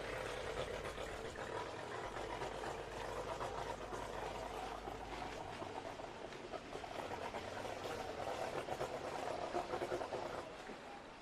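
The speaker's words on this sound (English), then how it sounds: "So it sounds like engine's still running" Racing boat engine still running after returning to the pit area at the Glenmaggie Gold Cup boat races, a steady, fairly distant droning hum throughout with no talking.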